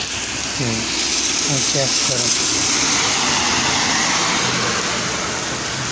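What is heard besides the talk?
heavy rain falling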